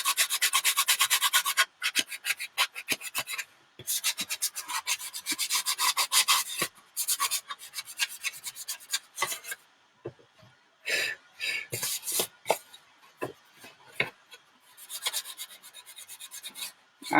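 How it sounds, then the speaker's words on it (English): Sandpaper rasping over a surface to rough it up before painting, in repeated quick back-and-forth strokes with short pauses between bursts, close and fairly loud with no talk. "the sanding is to rough up the surface so it will take the paint a little bit better"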